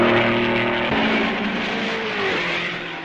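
Vintage 1955 racing cars roar past at the Belgian Grand Prix at Spa, a Maserati among them, loud broadband engine noise with a sustained tone that drops as one car passes close, then fades slightly.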